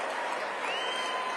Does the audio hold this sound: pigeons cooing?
no